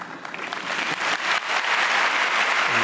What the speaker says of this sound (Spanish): Ha sido interrumpido por un aplauso